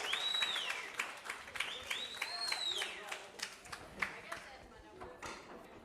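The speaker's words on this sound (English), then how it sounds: "Give that young lady a round of applause." A crowd applauds with steady clapping after an auction sale at a charity fundraiser in an opera house in St. Louis, mixed with chatter and whistle-like tones over a busy room.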